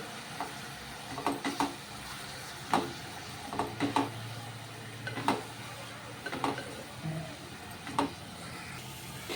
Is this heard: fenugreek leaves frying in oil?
yes